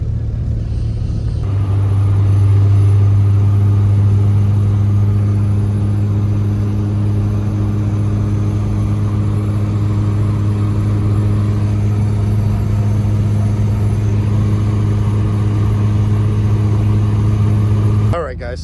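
A turbocharged G23 Civic's engine drones steadily as it pulls into a Central Pennsylvania coffee shop lot, a deep constant hum with faint talk over it.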